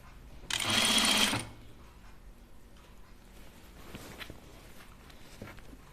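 A sewing machine stitches a uniform tunic in one short burst of about a second near the start, then gives way to quiet handling and faint taps.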